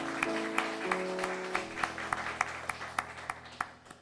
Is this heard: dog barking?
no